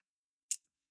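One crisp, tiny Apple mouse click, close and isolated, with silence before and after.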